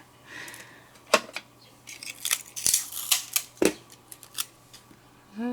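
Scissors snipping through cardstock while making a handmade card, a string of short crisp cuts in an uneven rhythm, close and moderately loud, with no talking.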